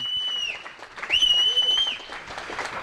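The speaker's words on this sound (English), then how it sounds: "can we have a massive round of applause to the winner in Luton of GKPT" An audience claps for the winner of a GUKPT Luton main event poker tournament, a moderate wash of applause blended with sustained tonal music and a few faint voices.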